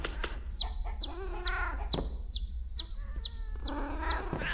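Chickens cluck in the video game Obenseuer, a run of repeated, close, clear clucks and squawks with short chirpy calls in steady succession.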